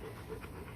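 Dogs pant quickly and softly after a walk, a brief, quiet, close burst of rhythmic breathing.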